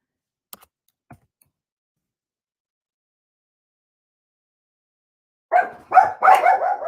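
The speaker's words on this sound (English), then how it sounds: "Nathan, the dogs are screeching for you, my love." Two faint clicks early on, then a long silence before a few barks break out in a quick burst near the end.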